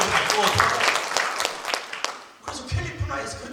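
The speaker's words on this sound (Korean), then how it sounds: "박수를 치고 은혜가 받고" A church congregation claps during a service marking a new church's founding and the ordination of elders, with bursts of applause that swell and then fade under a speaking voice.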